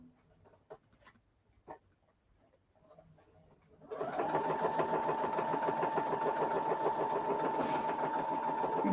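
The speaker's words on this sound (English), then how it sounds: "Can you hear my sewing machine?" After a few quiet seconds of small clicks and taps, a sewing machine starts up sewing a straight stitch and runs steadily, a rapid mechanical whir close by.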